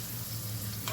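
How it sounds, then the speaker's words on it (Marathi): A papad dropped into hot oil, frying with a dense, steady sizzle and bubbling hiss, close and even over a brief moment, with no talk. "तेल गरम झाले, पापड टाकूया."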